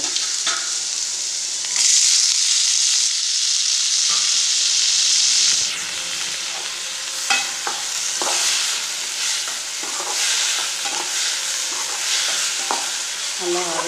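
Chopped tomatoes and onions sauté in a pan for an egg gravy, sizzling loudly and steadily at close range while a spoon stirs and scrapes in intermittent clicks; no one speaks.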